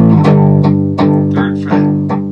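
An electric guitar riff of distorted power chords in A, with about six punchy strums in a steady rhythm, each chord ringing briefly into the next, loud and close with no talking.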